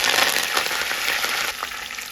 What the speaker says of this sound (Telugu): ఇప్పుడు ఎల్లుల్లిపాయ రెబ్బలు, ఇప్పుడు కరివేపాకు వేసుకున్నాం.